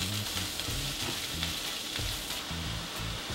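Mushrooms and browned onions sizzle in a frying pan, a steady close hiss with a few soft knocks and scrapes from stirring.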